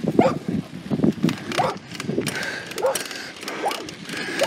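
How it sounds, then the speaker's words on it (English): Two loose dogs, one a cow dog, bark and whine in short uneven bursts at close range on a path near Santa Cruz, New Mexico, with some movement noise between calls. "That's a loose dog. Two loose dogs."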